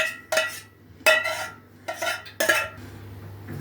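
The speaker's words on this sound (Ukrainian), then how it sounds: "Трошки собі ложкою помішала." A metal spoon clinks and scrapes against a pot of cheese and milk sauce in four short bursts, stirring at an unhurried pace with a steady low hum in the background.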